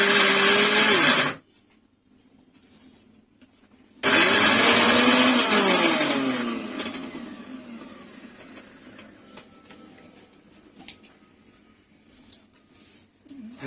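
A kitchen blender grinds paan laddoo ingredients in loud, steady bursts, running in two stretches separated by a short pause, the second run gradually easing off.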